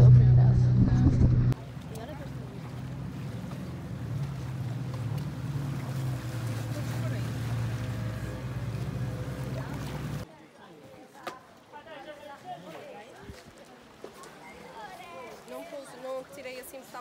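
Tour boat ride to the Blue Grotto in Malta, a loud boat engine drone with wind buffeting the microphone for several seconds, then the motor noise drops away and voices and splashing water take over.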